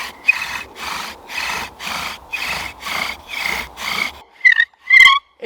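Bow drill spindle spun against a wooden hearth board while making fire, rhythmic rasping friction strokes about twice a second, close and moderately loud, then a few squeaky chirps at the end.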